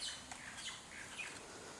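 Birds squawk and chirp outdoors in scattered, faint calls over a steady hiss of wind and ambient noise, with no talking.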